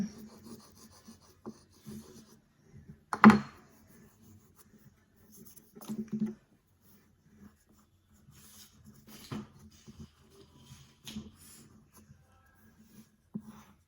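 Chalk drawing ballerina figures, heard as soft, sparse scratching and rubbing strokes, quiet and close, with a few sharper knocks and longer gaps of near silence between them.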